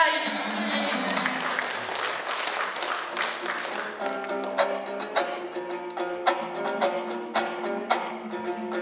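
An audience claps at a Kyrgyz-Kazakh aitysh poetry contest, a swell of applause at first that thins while a sung or chanted voice carries on over scattered, fading claps.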